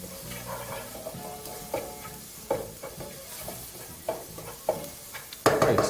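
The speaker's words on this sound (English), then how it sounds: "all you want to do is just fry those for just a little bit" Cumin powder and paprika frying in a pot while being stirred, a soft continuous sizzle with repeated scraping clicks of the spoon against the pot, close and quiet, with no talk.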